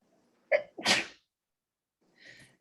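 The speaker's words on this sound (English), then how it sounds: "And I'm gonna sneeze." A single loud sneeze up close, a sharp intake then an explosive burst, followed by a quieter breathy sound after a short pause.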